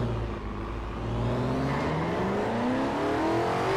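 A car engine in Forza Horizon 4 pulls away and accelerates steadily, its drone rising in pitch through the gears, loud and continuous with no talk.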